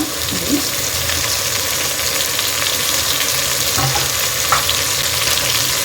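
Fish curry with tamarind and mint cooks in a pan, giving a loud continuous sizzle with stirring scrapes and bubbling throughout.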